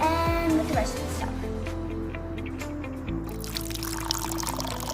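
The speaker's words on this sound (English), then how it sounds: "we're gonna need to add the milk" Milk pours from a container into homemade vanilla cake batter, a short liquid glug at the start followed by soft wet squishing and splashing, with background music-like tones running underneath.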